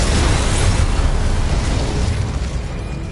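A spell explosion in Hogwarts Legacy lands as a loud, close burst with a rumbling boom that slowly fades over a few seconds.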